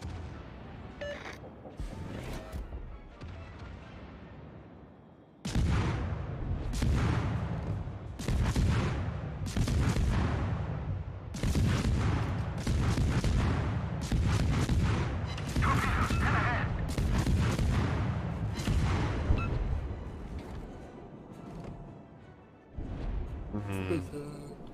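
Heavy ship guns firing in World of Warships, a long series of booming blasts that rise after a brief pause and continue at irregular intervals, with some talk heard underneath.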